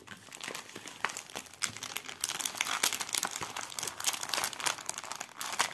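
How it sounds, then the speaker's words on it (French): Plastic wrapping crinkled by hand during an unboxing of cross-stitch supplies, giving a close, continuous crackle of dense uneven rustles with no talking. "Désolée pour les petits bruits de froissement de plastique."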